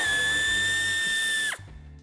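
Cordless power drill backing out a screw on the rear bumper of a 2017-2024 BMW 5 Series G31 Touring, a close, loud steady whine for about a second and a half that stops abruptly.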